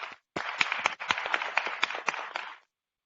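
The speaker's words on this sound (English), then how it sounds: "Let's give all of our participants a round of applause." A crowd at a town hall meeting gives a round of applause for the participants: dense, steady clapping that starts abruptly, holds for about two seconds, then stops.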